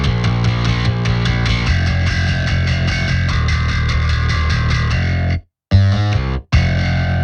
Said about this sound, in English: I'm using Distortion Circuit 3 for this one. If I turn that off and on again